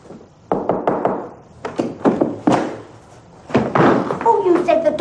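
Someone knocks on and rattles a locked office door: a burst of loud, close wooden thumps and rattles, a short pause, then more knocking as voices start talking over it.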